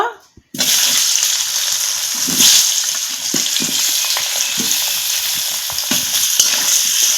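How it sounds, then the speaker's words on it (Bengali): Boiled potatoes frying in oil in a pan for egg curry, a loud, continuous close sizzle with occasional scraping and stirring knocks throughout. "এখন যে এই সেদ্ধ করা আলুগুলো আছে এই আলুগুলো একটু ভেজে নিব"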